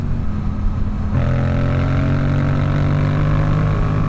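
A loud motorcycle with a fairly long muffler runs hard, its engine drone rising in pitch as it revs up and holding a strong, steady roar throughout.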